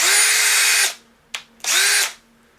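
Cordless battery drill/driver with two speeds, a keyless chuck and a bit fitted, whirring loudly for about a second, then a short click, then a second burst of spinning that winds down. A steady low hum sits underneath.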